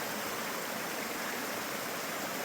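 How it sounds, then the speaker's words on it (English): A river rushes right beside a hiking trail in Strong's Canyon, a loud, even, unbroken wash of flowing water filling the whole moment with no voices. "I'm right by the river, right on the river"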